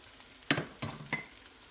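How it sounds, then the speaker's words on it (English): Queso frito, cubes of frying cheese, cooking slowly over low heat in a pan, giving a few soft sizzles and spits in a quiet kitchen, with no talking. "they're going to cook real slow, so. They didn't want it on too high because they were starting to spit up."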